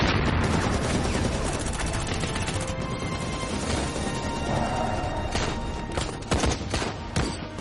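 Dense gunfire from a battle scene in a Chinese drama: sustained loud bursts of shots and booming impacts filling the whole stretch, with a few sharper cracks near the end.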